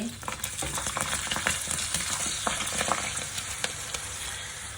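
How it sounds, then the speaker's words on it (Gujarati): Bhungda snacks deep-frying in hot oil in a pan, a loud continuous crackling sizzle with dense popping and bubbling, close and unbroken. "તો આપણે હવે ભૂંગળા તળી લઈશું।"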